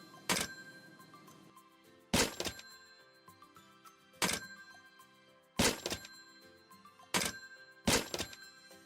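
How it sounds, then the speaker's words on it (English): Telephone handling sounds from an indie video game, a series of six sharp, loud thunks spaced about a second or two apart, each with a short ringing tail and no talking. "I also added sounds to the telephone"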